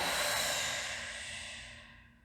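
A long, deep exhale during a Pilates breathing exercise, a soft breathy rush of air that starts full and slowly fades toward the end, with no talking.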